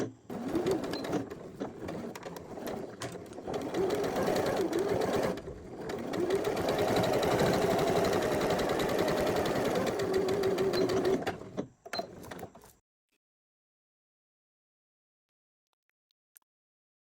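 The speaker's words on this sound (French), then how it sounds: "Et on va coudre un point droit ici à 5 mm du bord." A sewing machine runs a straight stitch along a fabric edge in a steady, close whirring burst of about eleven seconds, with short stops and starts near the end before silence.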